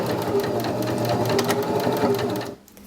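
A sewing machine runs fast and steady, stitching binding onto the edge of a quilt, a close, even mechanical whir that stops abruptly near the end.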